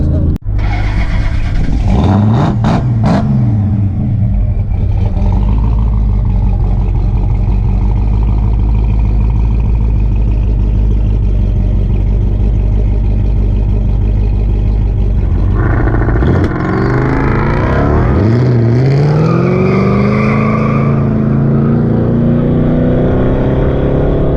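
A boosted drag race car roars loudly and continuously, its engine note climbing as it launches and accelerates, then surging again with a rising whine near the end; nobody speaks over it.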